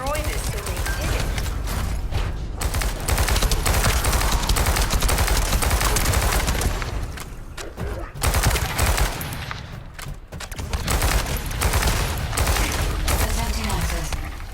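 Sustained, dense video game gunfire rattles almost without pause while a device is destroyed, with short gaps and a voice speaking over the din.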